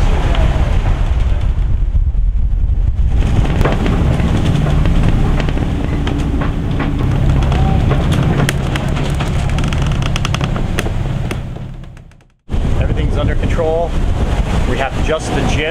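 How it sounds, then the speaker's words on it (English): Strong wind of about 25 knots roars over a sailboat at sea off the Pacific coast of Mexico, a steady loud buffeting with water rushing, briefly dropping out before returning. "The wind's calmed down a little bit to about 25 knots"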